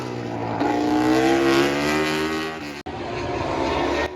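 MotoGP racing motorcycles, including a Honda HRC and a KTM, pass at the Grand Prix of India, with a loud, sustained high-revving engine whine that shifts pitch as they go by, then a brief cut before the roar resumes.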